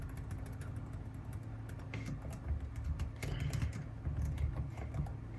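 Keyboard keys tapped in quick irregular bursts, faint and close, over a steady low background hum with no voices.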